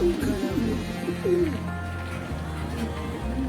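A male pigeon of a Surma-spotted lineage coos in repeated low, rolling phrases close by, with a low hum and some loft background behind it.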